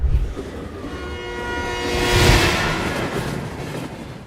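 A steady train horn blares over the rumble of a moving train, swelling toward the middle and then holding, loud and close.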